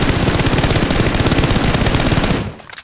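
Video game gun sprays a full magazine in one sustained, loud burst of rapid automatic fire, ending abruptly near the end with a couple of trailing clicks and echoes.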